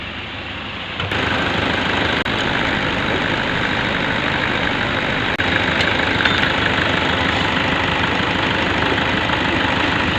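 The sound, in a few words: car engine idling with battery negative disconnected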